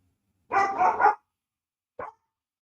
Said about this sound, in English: go stop barking